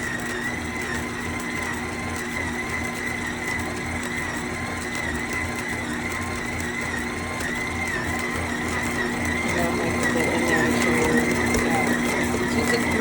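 Stand mixer kneading stiff sourdough on speed 2, a steady motor whine with a rhythmic mechanical thumping, close, growing slightly louder toward the end.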